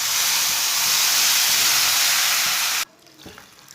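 Water poured into hot roasted semolina for halwa bursts into a loud, steady steam hiss that fills the first three seconds, then cuts off abruptly, leaving only faint quiet kitchen sounds.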